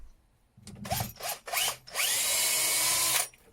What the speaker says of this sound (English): So I need to put a hole in the center of that to screw all those together.